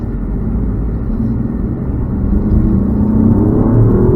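A 2020 Alfa Romeo Giulia Quadrifoglio with its 2.9-litre twin-turbo engine accelerates hard, producing a loud, steady low drone heard close from inside the car that swells and deepens toward the end.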